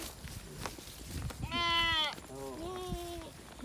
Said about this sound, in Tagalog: Bumabati po yung kambing.